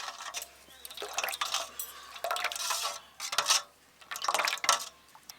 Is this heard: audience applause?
no